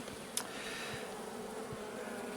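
Honeybees swarming over a brood frame lifted from a hive, a dense continuous buzz close by and fairly quiet, with one sharp brief tick near the start and no voices.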